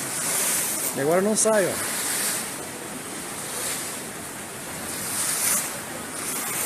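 Rainwater floods a building's reception and pours through a small 100 mm drain pipe, making a steady broadband rush that runs throughout. A person speaks briefly near the start.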